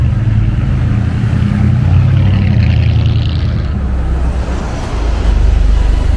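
A car drives past close by on a shady suburban street near a bus stop in Downend, its broad low engine and tyre rumble swelling then easing over steady traffic noise.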